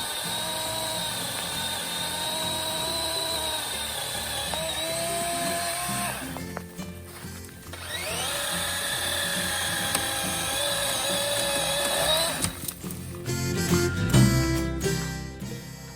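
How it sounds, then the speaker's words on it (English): A small 12-inch electric chainsaw cuts trees outdoors. Its high motor whine rises and falls through two long cutting runs with a brief pause between, and cracking and rustling come at the end. "That electric chainsaw sure is a lot easier to hike with."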